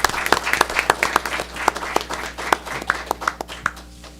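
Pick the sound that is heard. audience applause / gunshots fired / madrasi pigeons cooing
audience applause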